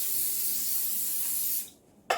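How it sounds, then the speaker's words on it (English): Olive oil spray misted into a baking pan for a Tarte de Santiago, a steady close hiss lasting about one and a half seconds, then a short second burst after a brief pause. "I'll also put a little bit of olive spray, because it really needs to be easy to take this thing out."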